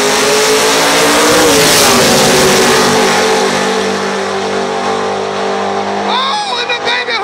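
Pro Mod drag race cars, a Camaro against an SDN, roar loudly at the strip with a sustained high-revving engine drone that holds throughout, then fades near the end with a brief squeal.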